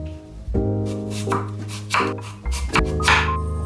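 A knife slices vegetables thinly on a cutting board, a handful of crisp, close chops spaced unevenly over a few seconds, with no talking.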